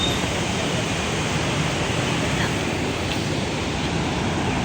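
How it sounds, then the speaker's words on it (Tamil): Water from the opened spillway gates of the Iranaimadu reservoir rushes out in a steady, dense roar, a continuous broadband wash like heavy surf that stays even and loud throughout, with no voices. "இப்போ தான் தண்ணி போகுது. பாருங்கள் இந்த தண்ணி எப்படி அங்கே போக போகுதுன்னு."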